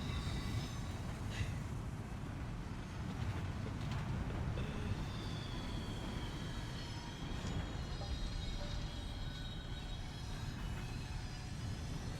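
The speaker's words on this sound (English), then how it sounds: "let's go on the longest monorail ride of all time" A monorail ride in the video game Death Stranding 2 gives a steady rumbling rail noise with faint squeals and clicks, continuous and even throughout.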